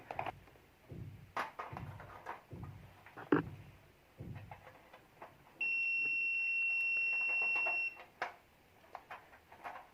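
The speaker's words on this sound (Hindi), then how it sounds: "तो आप मीटर की जो है वो बीप भी सुन सकते हैं।" A digital multimeter gives a steady continuity beep of about two seconds while heater rods of an electric room heater are tested, amid light handling clicks and clatter nearby.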